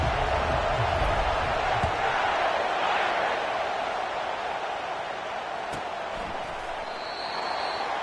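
Stadium crowd noise from the NCAA 25 college football video game, a steady, dense roar of a large home crowd at kickoff against Notre Dame, continuous and fairly loud throughout.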